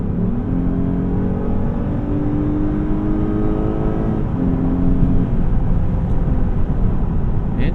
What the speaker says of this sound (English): We're going to test the Kickdown.